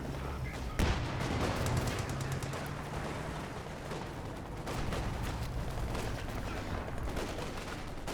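MG42 machine gun fire crackles through a Company of Heroes battle, with rapid bursts of shots, scattered single reports and a dull rumble of explosions running continuously at steady loudness.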